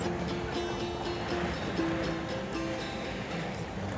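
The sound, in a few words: sea waves at Odesa beach, Black Sea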